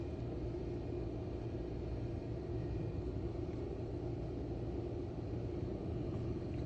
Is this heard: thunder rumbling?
yes